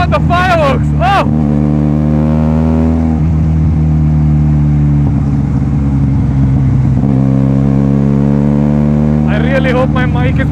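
A Benelli TNT 300 motorcycle with a loud aftermarket exhaust drones steadily at high volume during a night ride, engine tone shifting as it eases onto overrun, with excited rider talk over it.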